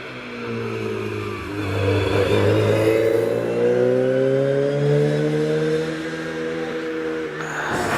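A rally car climbs a hillclimb course at Prescott, its engine revving through rising gear pulls and shifts as it passes fairly close, loud and steady, with no talking.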